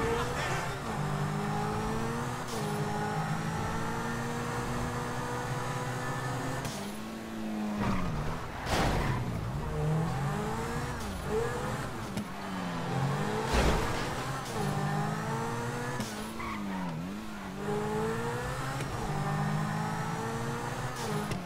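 A car drives and revs in GTA Online, its engine pitch repeatedly climbing and dropping through gear changes, loud and continuous, with occasional sharper surges and no talking.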